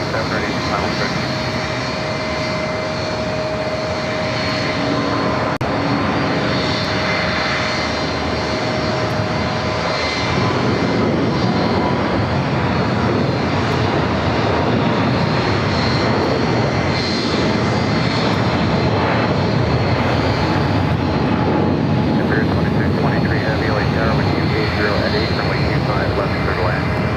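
Boeing 777 taking off on runway 25 right at Los Angeles International Airport, a loud sustained jet engine roar that builds and holds throughout, with a voice talking over it.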